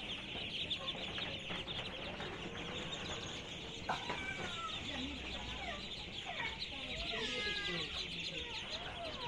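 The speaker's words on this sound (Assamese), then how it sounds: "এইটো হ'ল আপোনাৰ 5 দিনীয়া পোৱালি।" Five-day-old ducklings on a duck farm chirp and peep in a continuous, busy chorus of many small birds. The calls are high-pitched and overlapping, with a faint voice speaking underneath.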